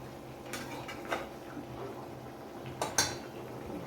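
A lid goes onto a pan of hot oil while cooking katla fish curry with kokum and mustard: a few light metallic clinks and taps, the sharpest pair near the end, over a quiet kitchen background.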